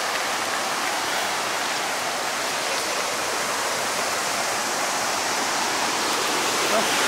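Waterfall at Waterton Lakes National Park, a loud, constant roar of falling water close by, steady and broadband with no break.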